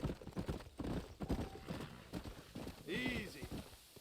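Horse hooves clip-clopping on a dirt road in the Red Dead Redemption western video game, a quick uneven trot of hoofbeats mixed with voices talking and a short whinny-like sound.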